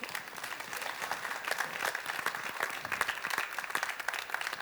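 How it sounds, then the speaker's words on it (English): Steady applause from a conference audience after a development panel fills the room with even, dense clapping, close and continuous throughout, with no voices over it. "I think they deserve a round of applause"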